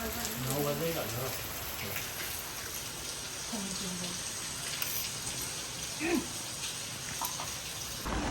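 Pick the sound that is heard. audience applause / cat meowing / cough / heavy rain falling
heavy rain falling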